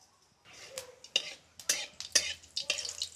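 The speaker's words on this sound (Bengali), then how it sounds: "তেল গরম হয়ে গেছে, এবার ফোড়নে দিচ্ছি জিরা শুকনো লঙ্কা" Cumin seeds and dried red chillies land in hot oil for tempering, giving a run of short crackling bursts and spits that recur irregularly near the pan, moderately loud over a quiet kitchen.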